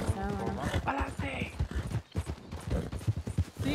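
In the RedM Western roleplay game, a horse gallops with a steady, rhythmic hoof clatter running under continuous excited talk from several players.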